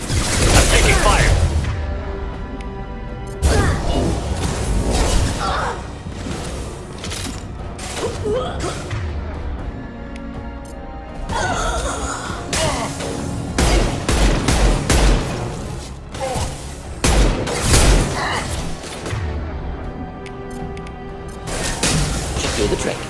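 Gunfire and explosions from the video game Mass Effect 2 Legendary Edition, with dense, loud bursts of shooting and impacts running almost continuously, briefly dropping between volleys, while a person talks over the action.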